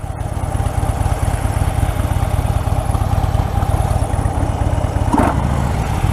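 A 2016 Harley-Davidson Fat Bob's V-twin engine idling close by, a loud, steady low rhythmic rumble with a short mechanical clunk near the end.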